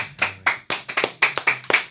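Hands clap in a quick run of about nine sharp slaps with a slightly uneven rhythm, close and fairly loud, with no talk between them.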